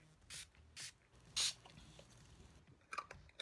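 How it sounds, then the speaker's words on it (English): Wet n Wild Natural Finish setting spray gives several short misting pumps, quiet hissy puffs spaced apart close by, followed by faint rustling handling. "that's the Wet n Wild Natural Finish Setting Spray"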